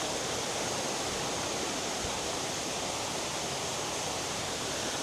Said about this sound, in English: Another little waterfall right there, hidden in the background.